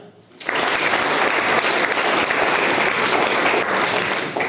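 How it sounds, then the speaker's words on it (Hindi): Steady, loud applause from an audience of about sixty-five people fills the room, starting abruptly after a brief quiet moment and holding dense and even to the end. "तालियां"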